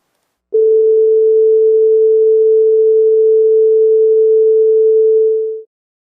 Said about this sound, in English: So here's the 440 hertz sine wave.